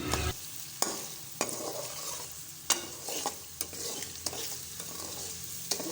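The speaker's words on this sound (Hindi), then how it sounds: "लो फ्लेम पर अच्छे से हाफ़ ब्राउन जो है ना, हाफ़ फ्राई, वो गाजरों को कर लेना है आपने" Grated carrots half-frying in oil on a low flame, a steady sizzle under repeated scraping stirs of a spoon against the pan every second or so, close and clear with no talking.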